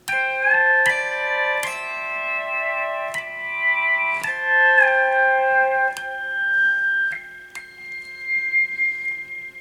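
Pedal steel guitar played with a medium yellow nylon thumbpick, picking bright chiming harmonic notes that ring and sustain, with several gliding pitch bends across a steady, clear passage and no talking.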